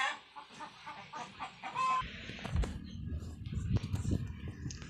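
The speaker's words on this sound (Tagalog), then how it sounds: "Bakit ang maraming manok?" Several chickens cluck and squawk close by, a busy, irregular chorus with a rooster-like call, followed by rustling and thumping movement.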